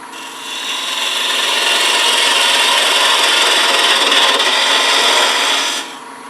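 A turning tool cutting wood on a lathe while shaping a pillar candle stick gives a loud, continuous close scraping hiss that swells in and holds steady for several seconds before cutting off near the end.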